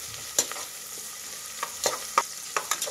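Peas frying in oil in a pan for pudina bath, with a soft continuous sizzle under scattered scraping stirs and clicks of a spoon against the pan.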